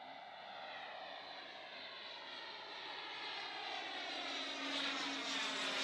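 A Pilatus PC-6 Porter single-engine propeller plane in flight, its engine droning steadily and fairly faint, slowly swelling louder toward the end.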